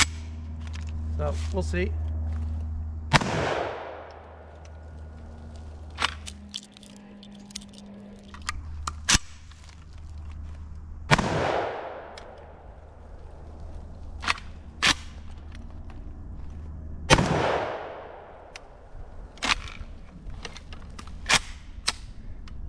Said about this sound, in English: shots of that Winchester birdshot number 8 going about 1200 feet per second